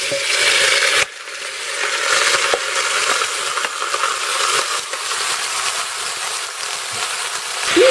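Oil or lard heats in a hot pan before frying for a fish soup, giving a steady hiss and crackle with scattered pops, moderately loud and alone.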